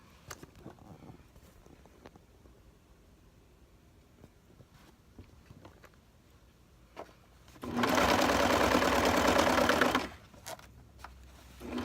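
Serger sewing machine hemming jeans runs in one loud, steady whir for about two seconds, preceded by quiet handling and fabric rustles.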